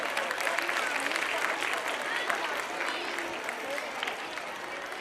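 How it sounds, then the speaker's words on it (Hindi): Sustained applause from a seated audience at a school annual function, steady and dense throughout with a few voices mixed in. "तालियां बजाते रहिए।"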